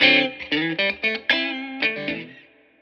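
An electric guitar with its humbuckers wired in parallel plays a run of distinct, effects-laden notes and chords with distortion and chorus, each note attacking cleanly and the last one ringing out and fading alone.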